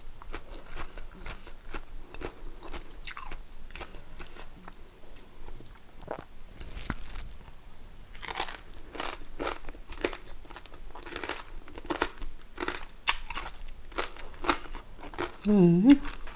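Someone bites and chews crispy pork belly with somewhat soft skin, a close sequence of crunching bites and chews in bursts with brief pauses, and a short voiced sound near the end.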